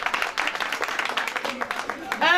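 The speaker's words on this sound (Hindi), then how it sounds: "जोरदार तालियां सिस्टर के लिए।" Audience clapping at a Christmas program in Lahore, a dense burst of applause mixed with crowd voices and talk, ending in a brief high tonal flourish.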